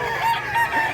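A rooster at a Mantalungon, Barili market crows once in a steady, drawn-out call, fairly close and clear.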